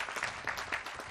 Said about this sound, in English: Let's give our kids a round of applause.